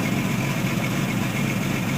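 A 1990 Peterbilt with a Series 60 diesel idles at about 900 RPM while warming up after sitting, a steady low rumbling drone with constant vibration, close and unchanging.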